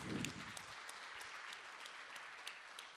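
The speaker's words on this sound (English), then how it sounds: "Absolutely, a round of applause." Applause from an audience at a journalism awards ceremony, a burst of clapping that swells at the start and then carries on as a steady, moderately distant wash of many hands for about three seconds.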